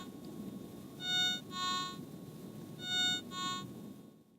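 Four short, faint electronic beeps from a Garrett ATX metal detector signalling a small or weak target, in two pairs over a quiet background hiss, each soft and brief.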